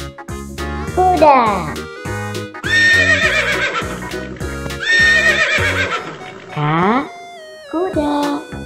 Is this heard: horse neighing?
yes